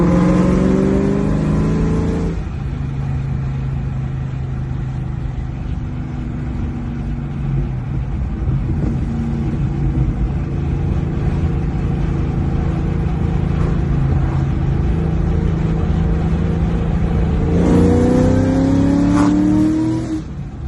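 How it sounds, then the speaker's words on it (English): A 2003 Mustang Cobra Terminator, supercharged, accelerates hard on a drive, its engine rising through gears in two strong pulls with a steady loud cruise between, close and continuous with no talking. "we're going to take it out, do a quick drive, and see if I start pulling boost with it"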